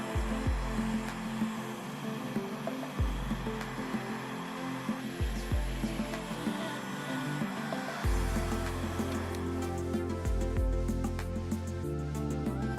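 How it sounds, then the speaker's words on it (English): A heat gun blows a steady hot-air rush while shrinking heat shrink tubing over crimped lamp cord connections, a continuous loud whoosh that changes tone partway through, with no one speaking. "I hit the heat shrink with the heat gun and got it all nice and snug."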